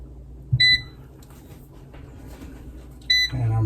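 An air fryer being set to preheat at 420 gives two short electronic beeps about two and a half seconds apart, each bright and clear over a quiet kitchen background.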